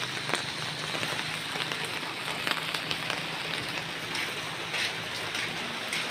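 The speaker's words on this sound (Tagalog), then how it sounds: "umuulan dito ngayon sa amin" Steady rain patters on a surface, dense and continuous, with occasional heavier drops standing out. No one speaks.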